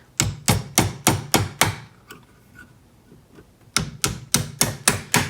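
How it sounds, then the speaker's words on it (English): Sharp leather mallet blows on a metal wide band ring ring out in a steady run of six, a brief pause with faint clinks, then another rapid series of five strikes, close and loud. "Now I am hammering with my leather mallet"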